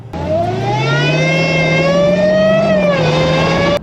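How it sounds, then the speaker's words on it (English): Dodge Hellcat supercharged V8 revving hard, with a loud, sustained supercharger whine rising in pitch over the engine roar, holding high, then dipping briefly before cutting off abruptly. "That Supercharger Whine, just like the turbos and the blow-off valves are just iconic noises"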